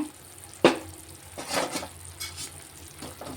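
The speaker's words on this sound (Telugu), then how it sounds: "ఇదిగోండి అల్లం ఉడుకుతుందండి కూర అయితే" Ginger simmering in an egg curry in a pan, with a soft bubbling sizzle, one sharp clink of a utensil against the pan, and a few light scraping stirs, close and moderately loud.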